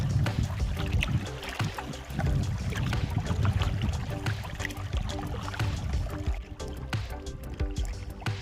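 A canoe is paddled through open water in the Everglades mangrove channels, with close, irregular splashes and water swirls from the paddle strokes, plus light knocks against the hull.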